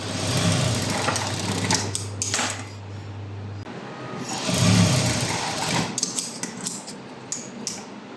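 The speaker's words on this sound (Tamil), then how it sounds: "இப்போ அடுத்ததாக இன்னொரு சைடு ஃப்ரண்ட்டுடைய டாட்டை ஃபுல்லாக ஸ்டிச் பண்ணி முடிச்சிடலாம்" A sewing machine stitches the front lining dots of a blouse with a steady, close mechanical whir for a few seconds. It then stops, leaving rustling fabric and light handling clatter.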